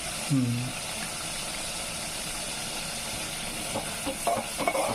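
Turmeric stirred into country chicken pulusu frying in a pan gives a steady, moderate sizzle with occasional scraping, and a person briefly talks near the start.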